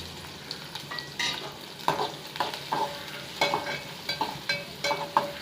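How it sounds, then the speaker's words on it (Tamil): Chopped garlic, alongside green chilli and onion, fries in oil for a potato fry, a soft sizzle broken by repeated scraping spatula strokes at an uneven rhythm. "கட் பண்ணி வச்சுருக்கிற பூண்டு போட்டுக்கலாம். நல்லா ஃப்ரை ஆகட்டும்."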